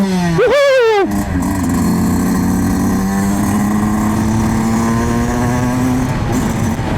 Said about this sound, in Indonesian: Kita coba geber ya.